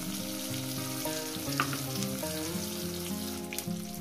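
Spice paste and the water used to rinse its bowl go into a hot pan of fried tomatoes for tengra fish curry, giving a steady sizzle with a few stirring scrapes under soft background music.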